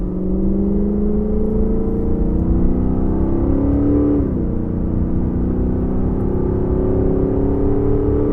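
A 2004 Cadillac XLR, the Corvette-based luxury roadster, accelerates hard with a steady engine drone that climbs in pitch, briefly drops at a gear change and then rises again, heard from inside the car with no talking.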